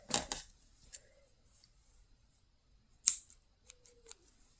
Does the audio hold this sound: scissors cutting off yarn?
yes